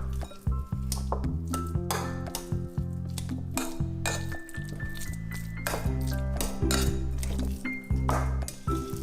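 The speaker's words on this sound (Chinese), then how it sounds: "首先把地瓜压泥，这个地瓜我已经事先蒸过了。" A spoon mashes steamed sweet potato with butter in a bowl, making repeated close clinks and taps against the bowl with soft squishing in between, at an irregular, busy rhythm.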